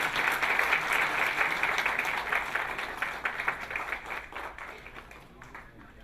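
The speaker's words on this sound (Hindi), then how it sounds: "एक बार ताली बजाकर के स्वागत करें।" Audience applause welcoming a speaker at a Hindi health-awareness talk on heart disease, a steady, dense clapping from a crowd that carries on for about six seconds and slowly thins toward the end.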